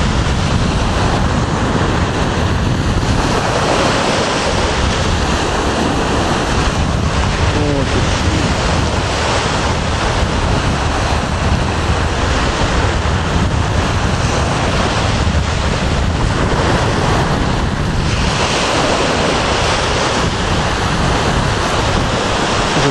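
Sea waves wash ashore at Kino Bay on the Sea of Cortez, Mexico, a loud, continuous surf roar with heavy wind buffeting the microphone and swells rising and falling throughout.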